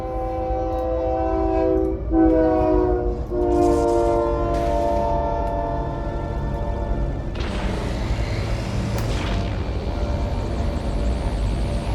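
Train arriving in the video game Metroid Prime 3: loud sustained horn blasts with shifting tones over a rolling rail rumble, then a bright noisy hiss as it pulls in, with no talking.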